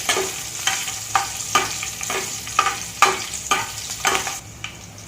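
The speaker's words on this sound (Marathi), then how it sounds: "मिरची आणि कढीपत्ता आता टाकल्यामुळे तो चांगला खरपूस भाजला जाईल" Chillies and curry leaves fry with hing in hot oil for poha chivda while a spoon stirs the pan in steady rhythmic scrapes, each stroke rising over a continuous close sizzle.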